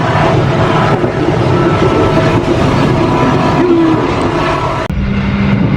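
Loud, constant rumble of the Sawunggalih Utama passenger train rolling on rails between Purwokerto and Purworejo, Indonesia, with rhythmic clattering and metallic squeals, heard from inside a carriage.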